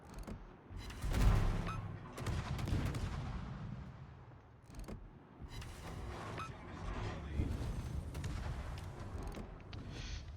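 Heavy explosions and booming impacts from airstrikes in World of Warships naval combat, a dense series of loud blasts and rumbling bursts with sharp cracks scattered across the stretch.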